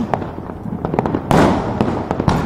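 Fireworks burst on a year's-end night, a string of sharp, close cracks and bangs at uneven intervals, with one bigger boom that rolls on for a moment.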